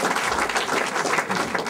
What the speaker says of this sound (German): Nochmal einen Applaus für ihn, bitte.